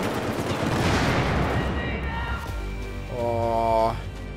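Dense automatic gunfire rattles in a Battlefield 4 team deathmatch, a loud continuous burst of rapid shots that thins out into a few trailing pops and game sounds, with speech-like sound picked up alongside it.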